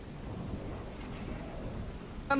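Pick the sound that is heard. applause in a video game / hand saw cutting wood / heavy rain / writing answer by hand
heavy rain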